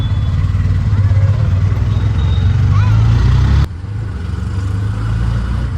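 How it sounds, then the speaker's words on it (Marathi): An auto rickshaw engine drones steadily and loudly up close as the vehicle pulls away, with a sudden drop in level partway through. "रिक्षा निघते"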